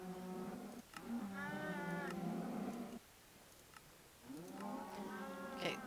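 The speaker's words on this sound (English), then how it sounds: "standard cow farm" Cows in a Minecraft cow farm give drawn-out synthetic moos, two long calls separated by a short pause, close and clear, with no speech.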